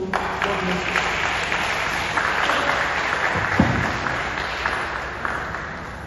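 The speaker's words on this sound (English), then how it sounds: "with a standing ovation and a round of applause" A seated audience stands and delivers a round of applause for a speaker after a talk on fuel demand in Nigeria, steady sustained clapping from a sizable crowd that holds at an even level throughout.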